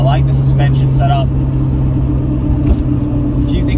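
Steady low rumble of a six-cylinder car with a manual gearbox being driven, heard from inside the cabin as a constant engine drone, with someone talking over it.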